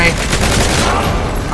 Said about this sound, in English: No shooting at me.